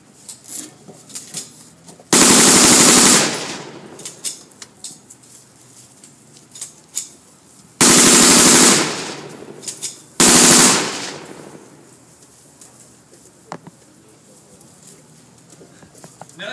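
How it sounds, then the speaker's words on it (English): An American machine gun, the primary type of World War II and Korea, fires at a WWII reenactment in three loud, sustained bursts of rapid rat-a-tat fire separated by quieter gaps. "Notice that rat-a-tat-tat sound of American automatic weapons"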